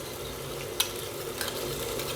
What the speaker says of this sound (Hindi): और इसे जल्दी से मिला देंगे।